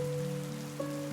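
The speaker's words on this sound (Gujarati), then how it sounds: "કેટલો તેજ વરસાદ આવે છે?" Heavy rain pours steadily through the night around a home of birds, a continuous wash of falling water beneath a sustained low tonal hum, with no voices.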